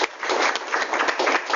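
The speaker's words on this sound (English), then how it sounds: "We can get a round of applause from those of us." Applause from participants at the close of an online webinar, a dense steady wash of clapping with slight swells, moderately loud and filling the whole moment without any talk over it.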